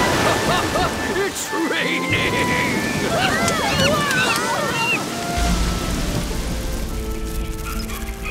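Rain in a cartoon jungle, a dense steady wash of falling rain with rumbling underneath, mixed with scattered chirping and whistling sounds throughout.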